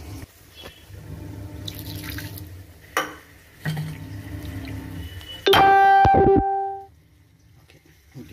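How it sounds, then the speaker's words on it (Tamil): Water poured into a pot of crab kurma as it cooks, a short close splash and trickle with a bright ringing pour, then fading to a quiet simmer; no talk over it. "கொஞ்சம் கொஞ்சம் தண்ணி ஊற்றி கலக்காத ஊற்றிடலாம்"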